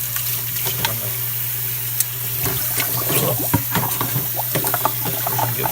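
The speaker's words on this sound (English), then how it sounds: "rinse it." Tap water runs steadily into a kitchen sink as a gutted, cleaned trout is rinsed under it, a close continuous splashing gush with small shifting spatters as the fish is moved in the stream.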